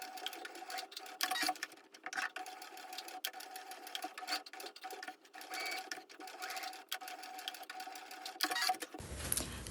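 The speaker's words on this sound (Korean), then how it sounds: "진하게 그린 부분을 다시 재봉해 양쪽 모서리 부분이 너무 각지지 않게 만들어" A sewing machine stitches the fabric corners of an iPad pouch in quick, continuous rapid clatter, close and fairly quiet, then stops near the end.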